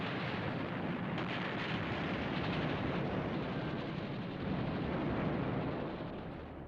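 Bombs burst around the aircraft carrier Lexington in WWII archival footage, a dense, loud, continuous roar of blasts and rumbling with no distinct gaps.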